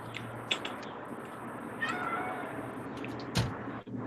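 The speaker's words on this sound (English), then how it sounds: "I hear a cat." A cat meows a couple of times at moderate distance over a quiet room hum, with a sharper knock near the end.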